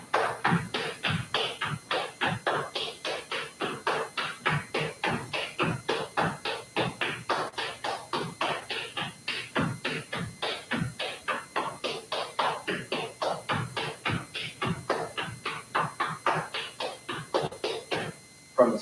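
Flatfooting dance steps on a hard floor, snake in the grass alternating with Alamo: a steady, fast stream of sharp shoe taps and shuffles in an even rhythm, close and moderately loud, with no talking.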